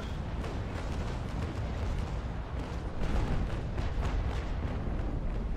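Ship cannon broadsides in the Naval Action naval video game rumble as a continuous low, thundering barrage of overlapping booms, dense and steady with a slight swell partway through.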